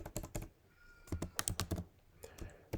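Rapid, close clatter of computer keyboard keys typing Python code in uneven bursts of clicks and taps, with brief pauses between clusters.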